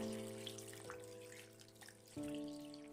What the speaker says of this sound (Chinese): 然后往里面倒入多一点的清水